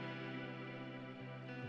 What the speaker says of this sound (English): using the Valhalla Supermassive reverb, which is a super cool reverb